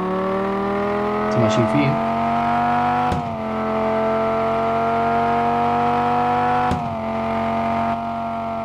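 A car engine from the online driving game Car Driving Online holds a steady, slowly rising revving drone throughout, with brief clunks near the middle and end, while someone talks over it.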